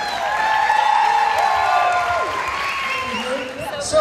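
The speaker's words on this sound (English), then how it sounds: "Let's give the show one more big round of applause." A theater audience applauds at the end of a show, with broad clapping mixed with cheers and whoops, voices audible through the sustained ovation.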